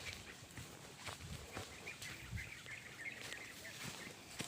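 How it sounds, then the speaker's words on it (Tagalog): Scattered high chirps and calls from several birds outdoors among bamboo near a stream in Aguilar, Pangasinan, fairly faint, with occasional soft rustling and footsteps nearby. "Ang daming ibon na tumutunog."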